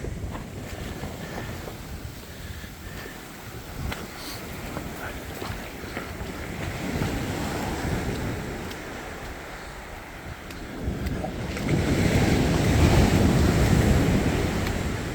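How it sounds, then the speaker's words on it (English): Sea waves surge and crash against coastal rocks along a rugged shoreline walk, a rolling wash under gusty wind noise that swells into a louder, heavier break near the end. "Not every wave comes crashing in to the rocks."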